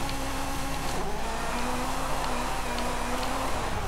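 A Ferrari F40 drifts across desert terrain in Forza Horizon 5, its engine holding a steady high drone with a faint tire hiss underneath, loud and constant for a few seconds with no talk.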